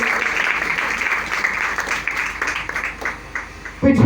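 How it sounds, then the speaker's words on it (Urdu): A church congregation at a New Year service claps enthusiastically in a sustained burst of applause that thins out toward the end, followed by a short louder sound. "ذرا جوش سے تالی ہونی چاہیے"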